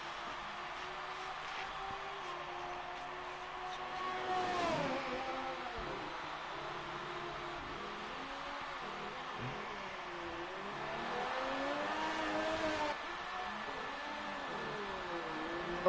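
A Formula 1 race car in a racing video game at Mexico drifts around the track, its engine whining steadily with rising and falling revs through the corners, moderately loud and continuous, no voices.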